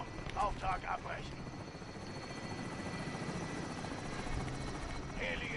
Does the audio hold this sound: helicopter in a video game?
yes